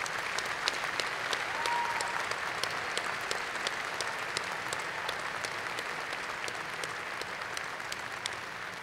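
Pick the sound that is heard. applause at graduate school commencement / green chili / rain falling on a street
applause at graduate school commencement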